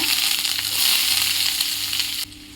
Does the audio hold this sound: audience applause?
no